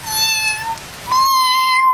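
An orange cat gives two clear, loud, tonal meows close by, the second one longer and held steady.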